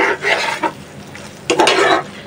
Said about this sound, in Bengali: মুরগির মাংসটা একদম ভাজা ভাজা করে ফেলছি